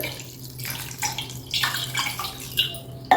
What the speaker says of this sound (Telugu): వెంటనే వీటి మీద చన్నీళ్ళు పోసేయండి ఇలా